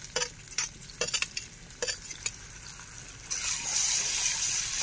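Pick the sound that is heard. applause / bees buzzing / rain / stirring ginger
stirring ginger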